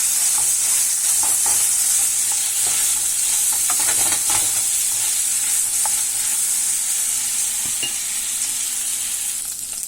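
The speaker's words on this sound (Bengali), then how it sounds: "দুটো একসাথে দিয়ে এটাকে ভালোভাবে মিক্স করতে হবে" Onion and garlic frying in a pan while being stirred, a steady bright sizzle running the whole way with scattered scraping clicks of the utensil, close and fairly loud, no voices.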